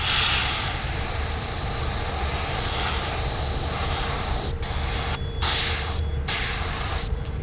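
Aerosol black paint sprays steadily onto a crankbait fishing lure, a continuous close hiss broken by a few brief pauses near the end as the nozzle is released and pressed again.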